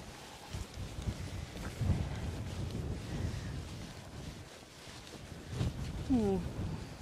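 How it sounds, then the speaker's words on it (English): Wind buffets the microphone in steady gusts on a hilltop in Isle of Man sheep country, with brief faint voices and footsteps, and a short sheep bleat near the end. "It's very windy."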